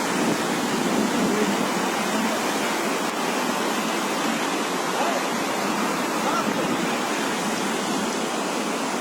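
Floodwater and sea waves during Cyclone Biparjoy in Gujarat rush and churn in a loud, steady broadband roar with no breaks, close by and overwhelming.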